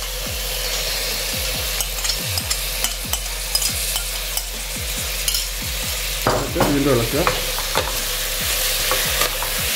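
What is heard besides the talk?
stirring tomatoes into frying Andhra mutton curry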